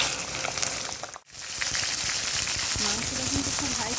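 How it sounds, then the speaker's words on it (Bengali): Chicken pieces frying over high flame in a wok of hot oil with garlic and ginger, a loud steady sizzle that briefly cuts out and comes back, with a voice speaking over it. "কিন্তু খুব হাই ফ্লেমে ভাজতে হবে"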